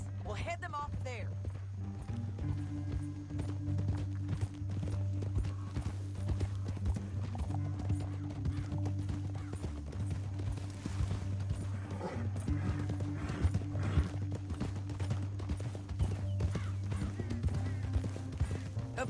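Horse hooves in Red Dead Redemption 2, a steady running clatter under a continuous low drone and background music, with occasional voices.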